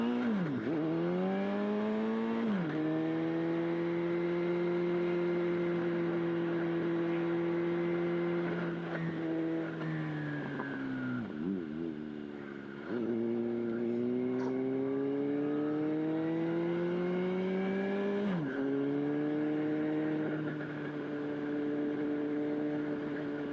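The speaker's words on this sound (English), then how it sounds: "First drive around the block in the GT6" A GT6 car driven around the block, its engine droning steadily and close with a harmonic whine that drops and climbs again at each of three gear changes, with no voices over it.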